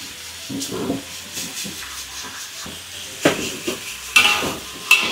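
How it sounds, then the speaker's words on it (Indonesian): Garlic, shrimp and vegetables stir-fried for capcay in a hot pan, soft hissing sizzle broken by a few sharp clanks and scrapes of the utensil, close by with no talking. "Bawang putih, tumis, kasih udang. Masukin sayuran."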